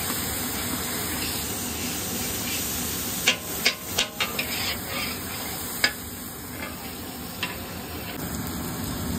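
Meat frying with spices in a pan gives a steady broadband sizzle and hiss, with several louder scraping stir knocks in the middle and one near the end, and no voices.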